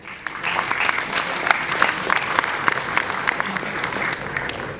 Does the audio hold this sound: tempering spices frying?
no